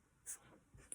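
A pen or pencil writes a fraction by hand during a math lesson, giving a few quiet scratching strokes that come in short bursts over a faint, steady room hiss.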